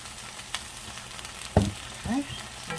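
Tomato and eggplant cook in a pan, giving a steady low sizzle with a few louder clatters and stirring scrapes near the middle and toward the end.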